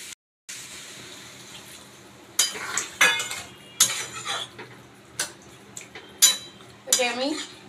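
Clattering metal kitchenware while shrimp and fig curry is cooked, with a few sharp clanks and scrapes in bursts, then a close ringing clink as a lid is set on the cooking pot.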